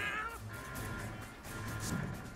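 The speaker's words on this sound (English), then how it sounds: "Those kitties look kinda cute, but they're not." Cats meowing in the video game South Park: The Fractured But Whole, a few faint, drawn-out mewls over a soft background of game sound.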